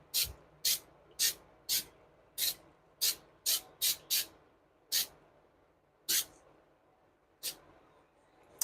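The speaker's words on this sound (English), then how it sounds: "Spray a little bit of this." Pam cooking spray shot onto a skillet in short, sharp hissing bursts, about a dozen of them, close and clear with quiet gaps in between.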